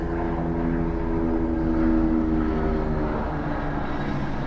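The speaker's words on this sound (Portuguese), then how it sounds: "vocês devem estar ouvindo um avião passando aqui" An airplane passes overhead as a steady, low droning rumble that holds evenly throughout without voices, heard from indoors during an online class.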